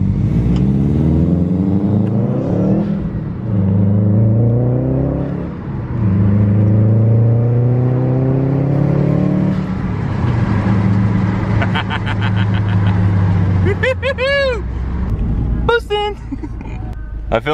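A Subaru WRX accelerating hard under turbo boost after replacing old EVAP hoses: a loud, close engine note climbing in pitch through repeated gear pulls, with brief dips between shifts and some whine and clatter near the end.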